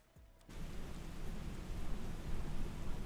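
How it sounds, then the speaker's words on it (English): Heavy rain during a line of storms in a flight simulator game with a Flysimware C24R aircraft, a dense steady hiss that starts suddenly and slowly grows louder, with no talking. "And now it's raining pretty hard again here."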